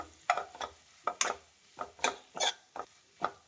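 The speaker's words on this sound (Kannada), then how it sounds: "ಇದೊಂದು ಸ್ವಲ್ಪ ಒಂದು 10 ಸೆಕೆಂಡ್ ಕ್ಯಾಪ್ಸಿಕಮ್ನ ಫ್ರೈ ಮಾಡಿ" Capsicum cooking in a pan for a curry, heard as a series of separate scraping, clattering stirring strokes at an uneven pace, each with a short burst of sizzle, quiet between strokes.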